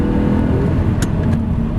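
An Audi R8's engine drones loudly at high revs from inside the cabin, with a brief break in tone midway as it shifts up into fifth gear.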